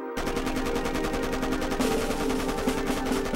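A Maxim machine gun firing a sustained rapid burst of evenly spaced shots, loud and continuous for several seconds without pause.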